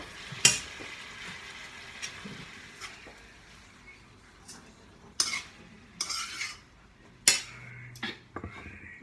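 Garlic is stir-fried in a pan with a low sizzle under sharp, irregular clanks and scrapes of a utensil against metal, a handful of loud knocks spread across the stretch.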